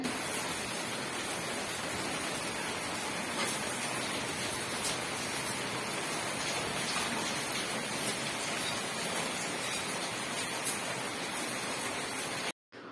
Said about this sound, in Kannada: ಬೆಳಗಾವಿ ಒಳಗೆ ಹಿಂಗೆ ಏಕ ಮಳೆ ಚಾಲೂನೇ ಇರ್ತೈತೆ ನೋಡ್ರಿ